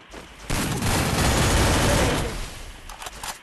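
MP5 gunfire in the Craftland game: a dense, loud burst of rapid automatic shots that sets in abruptly, sustains for about two seconds, then tails off into scattered quieter hits, with no talking.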